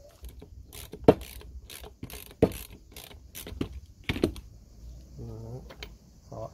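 A ratchet with a 22 mm socket undoes a screw on the steering rack of a BMW E36 320i, producing sharp irregular clicks close by, with a brief faint voice.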